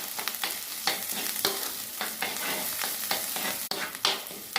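Masala sautéing in oil for a coconut tuna curry, a continuous frying sizzle broken by repeated spoon strokes and scrapes against the pan, close and fairly loud.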